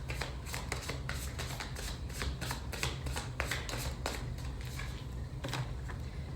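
A deck of cards shuffled by hand for a reading, with dense, continuous riffling and flicking in quick, regular bursts, close and steady over a low background hum, with no voices.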